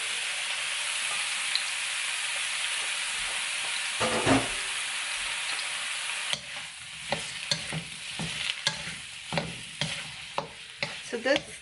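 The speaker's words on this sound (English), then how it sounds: "what I'm gonna do is I'll saute the eggplant first." Eggplant sautés in about a tablespoon of oil in a pan, a dense, close, steady sizzle that later breaks into scraping stirs and clacks of a utensil against the pan, with no talk.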